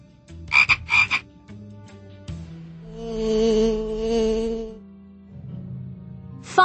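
In a PAW Patrol kids' video game, a few quick frog croaks early on, then a longer warbling frog call with buzzy harmonics, and a last short croak at the end.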